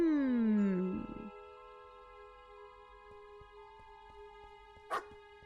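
A dog barking in the video game Gibbous, a single short bark that stands out briefly over a steady, sustained musical background.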